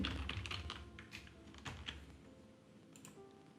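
Keystrokes on a computer keyboard while HTML is typed into a code editor during a web development lesson: a close, steady run of light clicks with a few stronger taps and brief pauses.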